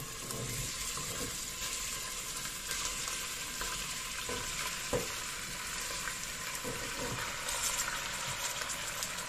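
Meat for carne guisada frying in a hot pan with oil, a faint continuous crackling sizzle with small pops, steady throughout and heard alone.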